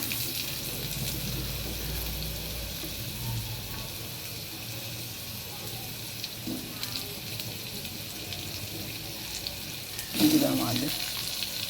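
Potatoes fry in a pan with dried red chili and whole spices, giving a soft, steady sizzle at low volume, with a brief clatter and splash near the end.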